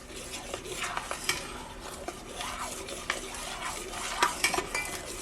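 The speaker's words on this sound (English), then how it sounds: "I'm going to add the cheese packet and let's just stir this in." Cauliflower mac and cheese being stirred in a pot after a cheese packet is added, with close scraping and clinking of a spoon against the pot in an irregular rhythm.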